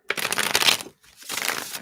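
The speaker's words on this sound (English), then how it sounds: "Let's just give these a shuffle." Tarot cards shuffled by hand at a live reading session, giving two bursts of crisp papery riffling and rustling separated by a short pause, close and fairly loud with no talk over it.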